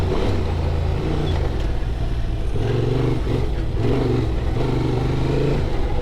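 A 2024 Honda Transalp XL 750 motorcycle ridden down a rocky, sandy desert wash, its engine droning steadily and close with shifting pitch as the throttle rises and eases over rough ground.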